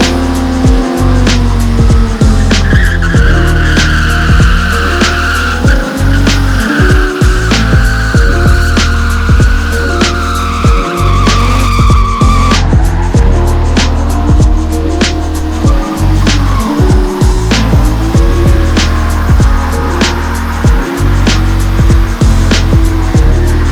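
A Toyota JZX90 converted to a five-speed manual drifts out back, its engine revving hard and rising and falling through gear changes while tires squeal in long sustained streaks, loud and close for the whole stretch.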